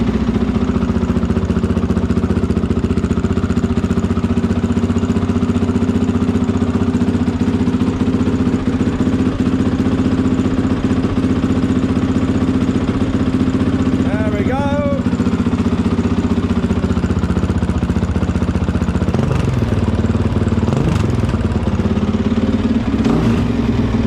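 Honda CRF450X dirt bike idling after an electric start, a steady, close mid-pitched engine putter with light mechanical clatter and a brief blip midway.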